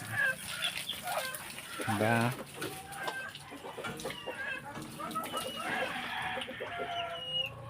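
Chickens cluck and squawk steadily at a farmyard, close and busy, with a burst of louder calls near the start, while a person speaks briefly amid the birds.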